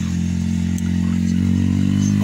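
A motorbike engine roars loud and close with steady, slightly rising revving, as if passing nearby on a road, heard alone without talk.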